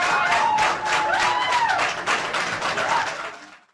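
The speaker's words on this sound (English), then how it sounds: "This drew applause from the politicians in the environment" Politicians at a gathering break into dense, lively clapping that stays strong for a few seconds, then thins and fades out.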